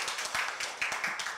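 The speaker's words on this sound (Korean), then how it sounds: "박수 한번 보내주시죠." Brief, close clapping from an audience at a public-sector panel forum on converting contract workers to permanent staff, a quick run of sharp individual claps.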